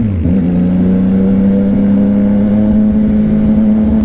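A CFMOTO 675NK motorcycle engine runs loud and close at a steady pitch, a strong low drone that holds evenly throughout with no pauses.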